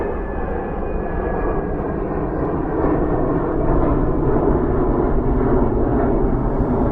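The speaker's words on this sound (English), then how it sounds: "We're live from Manchester Airport." Steady outdoor ambience at Manchester Airport, a continuous low rumble of aircraft engines holding at a constant level throughout with no voices.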